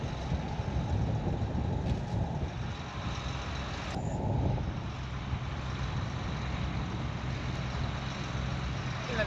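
Steady wind buffets the microphone across an open cotton field, a continuous rushing roar with a low rumble underneath, loud and close throughout.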